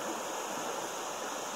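High-running creek water during a gold-prospecting outing in Indiana rushes in a steady, dense, close wash with no pauses.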